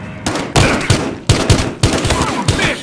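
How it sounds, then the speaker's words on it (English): Gunfire in Battlefield Hardline, a rapid string of loud shots in bursts with short gaps, punchy and close, filling the whole stretch without speech. "Multiple shots fired"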